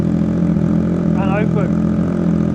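Motorcycle engine idling with an electric dB killer exhaust flap open, a steady, deep, throbbing rumble close and loud, with a short spoken phrase over it midway.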